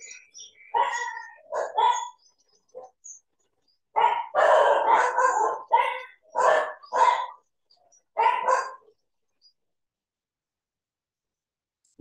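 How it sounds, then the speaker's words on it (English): Several dogs barking in repeated bursts, loud and close, with pauses of quiet between the volleys and a final bark at the end. "And there is the sound of the dogs."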